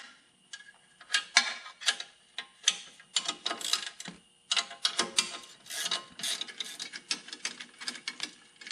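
A ratchet wrench works loose the foot peg bolts on a Can-Am DS90X, with rapid close clicking bursts in an uneven rhythm and short pauses between strokes.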